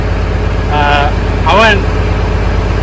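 A 12-valve diesel engine idles slightly high with a steady low rumble, while a nearby voice speaks briefly over it.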